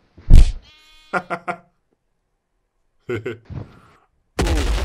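Sheep from a realistic Minecraft-style animation bleat in short, wavering cries near the start, while a lively voice laughs and chatters in bursts around them, followed by a sudden loud noisy hit at the end.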